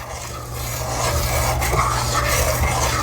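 Granulated cane sugar being stirred into chocolate mint fudge mixture makes a continuous gritty rasping and scraping in a pot. The sound is close and steady, growing slightly louder, with no talking.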